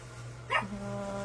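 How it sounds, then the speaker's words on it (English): A single short dog bark at night rings out at a moderate distance, over a steady background hum. "you might hear my dogs bark because it's that time of night where they bark"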